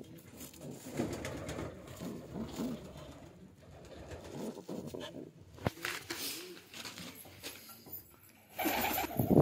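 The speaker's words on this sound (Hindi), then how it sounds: "गाइस वो कबूतर उतर रहा था" Pigeons coo near a nest with eggs and a chick, their soft throaty calls repeating through a busy, noisy background with some rustling and a sharp knock.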